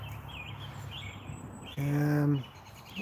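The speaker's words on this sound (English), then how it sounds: "I'm really gonna have to talk over the birds tonight" Birds chirp faintly outdoors with scattered high calls, while a brief voiced sound rises over them midway.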